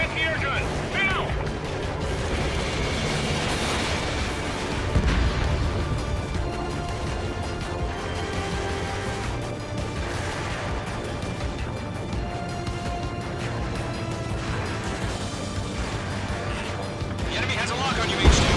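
Gunfire and explosions rumble through an Ace Combat 7 air mission, a dense continuous barrage of bursts and booms with radio chatter spoken over it.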